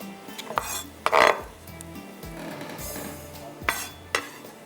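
Onions go into a pot and get stirred, heard as a few loud metallic clanks and scrapes of a spoon against the vessel over a faint low sizzle, with no speech.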